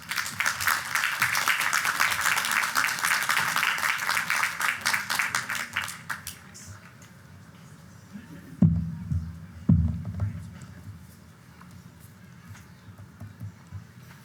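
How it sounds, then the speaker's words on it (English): Audience at a college commencement ceremony giving a round of applause for the student speaker, a loud dense burst of clapping that fades out after about six seconds, followed by quieter room noise and a few thumps. "A big round of applause"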